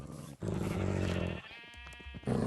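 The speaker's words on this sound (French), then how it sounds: "Ah, les moutons n'ont pas de chance." Sheep bleat in the Minecraft video game: two or three close, clear, wavering baas with short pauses between them.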